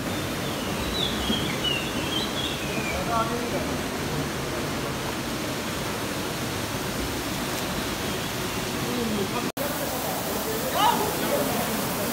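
Water rushing steadily at Noori Waterfall beside a clear swimming pool, a constant broad hiss with a faint bird call early on and a brief break near the end.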